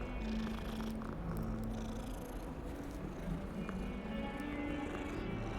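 A cat purrs in the video game Hogwarts Legacy, a steady low rumble running close and continuous throughout, with faint game ambience beneath it.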